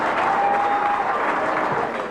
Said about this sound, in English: At the after-show party, Newley's entrance is greeted with spontaneous applause.